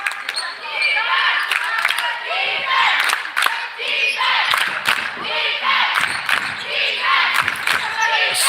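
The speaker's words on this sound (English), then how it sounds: "Stowe crowd getting excited." Home crowd at a girls varsity high school basketball game in Stowe, Fairfax visiting, cheering steadily and loudly in a gym, with ball bounces, thuds and an announcer talking over the noise throughout.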